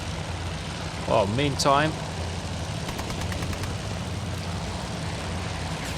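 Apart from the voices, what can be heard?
fighter plane engine in the video game Task Force Admiral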